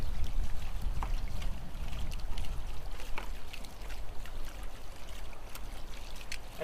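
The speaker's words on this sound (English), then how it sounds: "My pump is running properly, I've got the flow right." Water from a disappearing fountain pump flows steadily into a buried basin, giving a continuous low trickling rush with faint splashes, close and fairly quiet.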